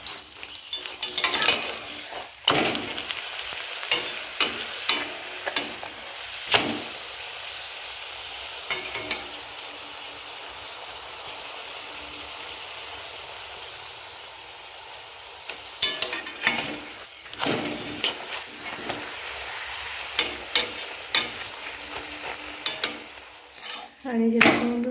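Dough breads puffing in hot oil, with a steady sizzle running underneath; bursts of stirring and scraping come in clusters, with clinks of a utensil against the pan and a quieter stretch in the middle.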